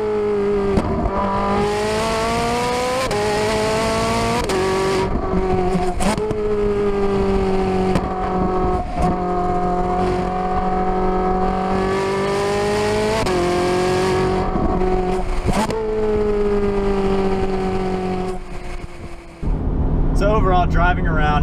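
Ferrari 458 Italia, a 2011 model, revving hard under full acceleration, its engine note climbing through repeated upshifts, loud and close, with the pitch rising and dropping at each gear change before easing off near the end.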